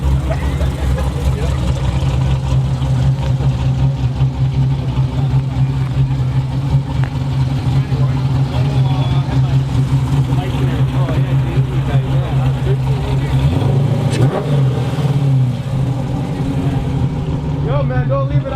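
A 392 engine fitted with long tube headers rumbles at a loud, steady idle with a brief rev near the end, while people talk over it throughout.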